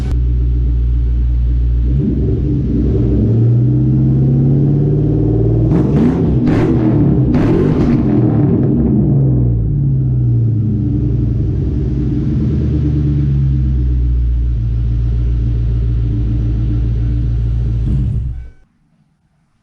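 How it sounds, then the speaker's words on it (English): A Ford Coyote-swapped car engine rumbles loudly up close, with a few sharp revs in the middle over a steady idle, then cuts off abruptly at the end. "she's warmed up a little bit, so I'll give you a little rev."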